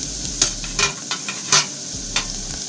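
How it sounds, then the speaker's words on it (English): Garlic hits a hot pan for cooking sardines, sizzling and frying steadily while a utensil stirs and scrapes in several distinct strokes, close and fairly loud, with no talking. "So I'm going to add my garlic."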